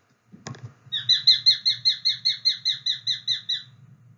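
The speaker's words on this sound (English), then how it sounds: "That's the sharpshin." A sharp-shinned hawk call: after a short thump, a rapid series of about fifteen high, sharp repeated notes in an even rhythm, close and clear over a low rumble.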